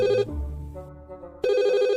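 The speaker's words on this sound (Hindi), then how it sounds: "तभी फोन बजने की आवाज आती है।" A telephone rings loudly in a steady electronic ringtone, which cuts out briefly and then resumes.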